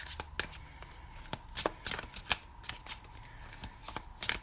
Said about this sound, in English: I'm shuffle again so I can get just one.